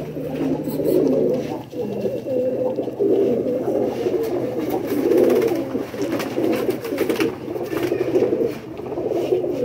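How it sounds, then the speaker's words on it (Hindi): Rampuri-type pigeons, including a paired cock and hen, coo steadily and close by in a continuous, rolling murmur with repeated swells, over low background noise and no talk. "ये चंदा खानी भी रामपुरी टाइप के ही कबूतर होते हैं ना?"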